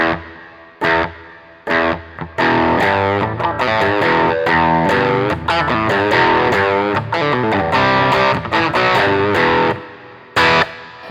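Overdriven electric guitar through a Joyo DC15S practice amp with reverb added plays a busy run of chords and notes, with a lingering reverberant tail smoothing the gaps between phrases.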